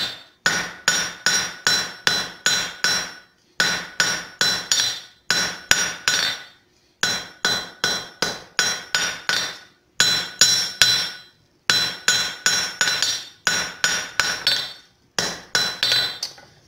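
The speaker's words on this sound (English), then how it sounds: "use the side of your hammer as a fuller to help draw out" Rhythmic metallic hammer blows ringing on hot copper being forged, in rapid bursts of five or six strikes, separated by short pauses, loud and close.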